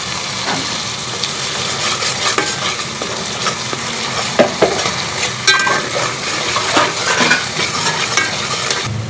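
Coriander, roasted cumin and black pepper fry and sizzle loudly in a pan as they are stirred for charsi mash daal, a continuous close crackle with the scrape of a spoon.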